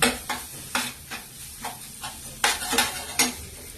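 Spoon scrapes and stirs coconut stuffing spiced with cumin in a frying pan, a series of distinct scraping strokes over a faint sizzle, close and irregular.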